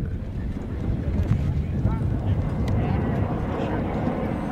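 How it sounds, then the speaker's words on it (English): Steady wind roars and buffets the microphone in sand dunes, a continuous low rumble that fills the whole stretch. "A little windy today."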